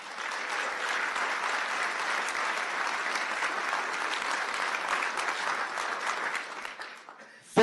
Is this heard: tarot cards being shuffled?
no